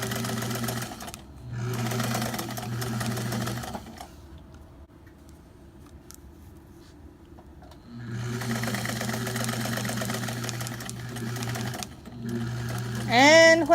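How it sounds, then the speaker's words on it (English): A sewing machine chain pieces quilt pieces in two long, close bursts of rapid stitching separated by a quiet pause of a few seconds, with a brief voice near the end. "we would start sewing our pieces together. So then I would just chain along."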